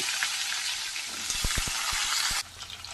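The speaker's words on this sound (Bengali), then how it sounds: "আলুগুলো এবার একটু লাল লাল করে ভেজে নেব" Potatoes frying in hot oil in a pan, a steady loud sizzle with a few sharp clicks of a utensil, the hiss dropping off abruptly near the end.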